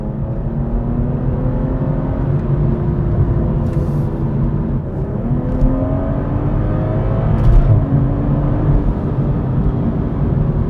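A BMW engine running with Active Sound Design switched off, a steady loud drone of engine hum with gentle rises in pitch as it revs, continuous throughout with no talking.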